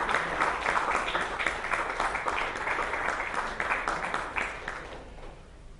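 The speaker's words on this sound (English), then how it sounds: "Please round of applause for" Audience applause after a panel session at an education summit, a dense, even patter of many hands that tapers off and fades out over the last second.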